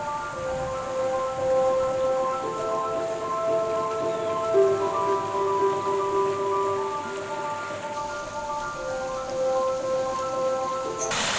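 Rain falls steadily on a forest in the hills of Purulia, a soft continuous patter with faint tonal hum layered over it, no voices.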